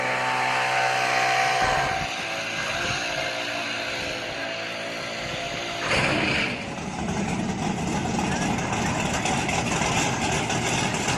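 A loud, rumbling Pro Stock race car engine idles with a lopey, uneven beat, briefly blipping louder partway through before settling back into a steady roar.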